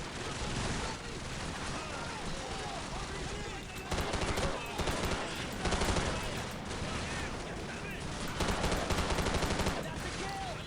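Rapid video game gunfire from Call of Duty 4: Modern Warfare crackles in dense, repeated bursts, with louder volleys at intervals over a continuous backdrop of battle noise.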